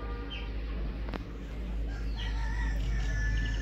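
Backyard chickens cluck softly while a rooster crows once in the middle distance, over a low steady background rumble.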